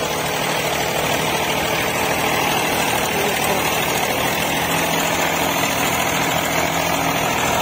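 An Eicher 485 tractor pulling a computer leveller runs its engine in a steady, loud, rough drone that holds unbroken from start to finish.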